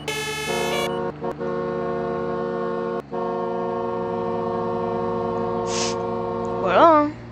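Fire truck horn in the Roblox game Emergency Hamburg, sounding as a long sustained steady blast with brief gaps, ending in a short wavering rise. No voices.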